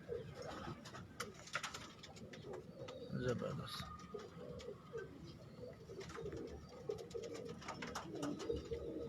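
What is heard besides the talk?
breeder pigeons cooing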